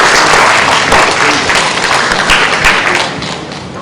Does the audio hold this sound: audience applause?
yes